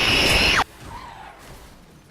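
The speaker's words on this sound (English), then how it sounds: "this rotary engine sounds sick" A Mazda RX-7 with a rotary engine, set up as a drift build in the Need for Speed 2015 racing game, gives a loud, harsh roar of engine and tire noise for about half a second that cuts off abruptly into a quiet background.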